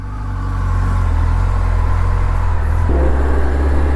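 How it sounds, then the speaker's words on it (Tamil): A 2024 Kawasaki ZX10R with its stock exhaust idles close by in a deep, steady rumble that swells in the first half second, then shifts pitch slightly near the three-second mark. "கேக்குதா? இது ஸ்டாக் எக்ஸாஸ்டில் இருக்குது."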